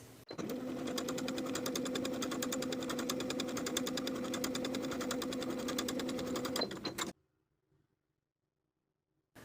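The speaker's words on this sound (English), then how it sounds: "Sew along the curve with a 1/4 inch seam allowance." A sewing machine stay stitching a curved neckline with a quarter-inch seam allowance, a steady rapid mechanical whir for about seven seconds that stops abruptly into near silence.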